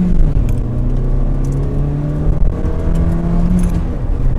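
A Ford Fiesta of about 120 horsepower accelerates on a test drive, its engine note rising steadily from inside the cabin with a continuous hum and rising harmonics and no talk.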